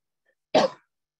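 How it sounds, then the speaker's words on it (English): One short, close cough from a person in an indoor conversation, after a moment of silence. "Excuse me, I've got a cough"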